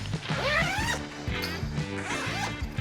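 A zipper on an accessory bag for a folding rubber boat is pulled open in several quick, close strokes, each a short rasping zip with light handling noises between.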